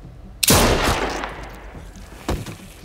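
A loud, close gunshot goes off in The Walking Dead Season 3 video game, trailing into a rumbling echo, followed by a second, smaller bang.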